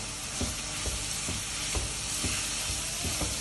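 Sliced onions hiss loudly in a pan for a simple chicken curry. A constant dense sizzle runs throughout, with a spatula scraping the pan in an even rhythm about twice a second.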